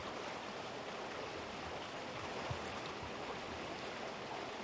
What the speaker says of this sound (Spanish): El murmullo del agua nos acompaña en todo momento.